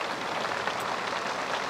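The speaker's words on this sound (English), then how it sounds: "it's summer and it's raining in the same street" Rain falls in The Sims 3 Island Paradise as a steady, even hiss of drops on a summer street, close and unbroken throughout, with no talking.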